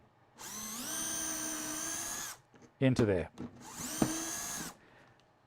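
A power drill boring a hole straight down through a Parf Guide Mk2 while mounting a Kreg K5, with two sustained whirring runs that spin up and stop, and someone talking briefly between them.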